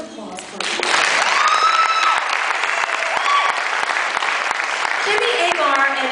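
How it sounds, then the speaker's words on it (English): A crowd applauds and cheers as an Army soldier is brought onstage at a Miss Texas event, with loud, sustained clapping and whoops, plus a voice and a few tonal sounds carrying over the applause. "Round of applause, please."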